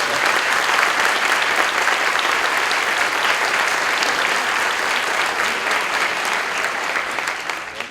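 An audience claps loudly and continuously, a dense roar of many hands held steady for about eight seconds before tapering off slightly at the end, with no voices rising above it.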